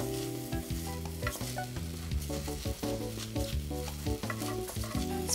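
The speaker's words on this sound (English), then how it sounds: "Popping bubble, stir them like describing a circle." Egg sizzles and crackles in a hot frying pan while a utensil stirs it in circles and scrapes around it, making dashi maki tamago rolled omelet, over a steady, fairly quiet background with some tonal music.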